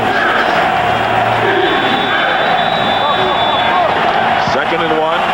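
Football stadium crowd at a Chicago Bears at Green Bay Packers game, a loud roaring mass of voices with chanting swelling throughout, broad and continuous behind close play-by-play commentary.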